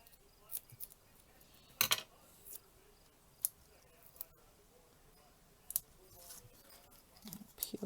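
Quiet, sparse snips and clicks of scissors cutting card paper for handmade card-making, coming as scattered short bursts against a faint background, with no voices.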